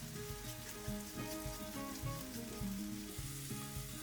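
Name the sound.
onions frying in chicken fat in a pan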